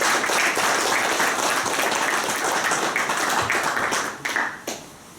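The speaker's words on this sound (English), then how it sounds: "So a big round of applause for them." An audience at a boxing promotion press conference claps in a dense, steady round of applause that thins out into a few scattered claps and fades near the end.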